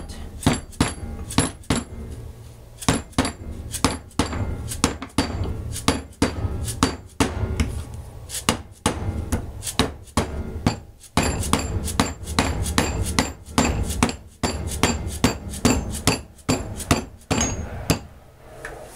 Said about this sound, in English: hammer it a bit.